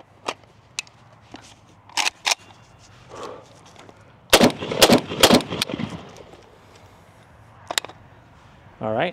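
Several sharp gunshots from a PSA Krink rifle, fired as isolated single shots and then as a quick cluster of rapid rounds, loud and close outdoors with no talking.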